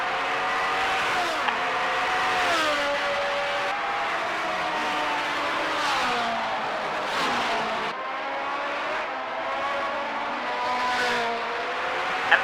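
Formula 1 race cars at the 1978 Monaco Grand Prix, loud engines screaming and shifting through gears as they rise and fall through the street circuit, several cars passing in close succession.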